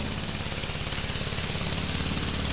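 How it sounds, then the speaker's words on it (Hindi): Homemade steam engine with a spinning flywheel, running in a fast, steady mechanical chugging rhythm with rapid regular knocks and hissing steam, continuous and close. "बस सिर्फ वॉल मैकेनिज्म की आवाज आई,"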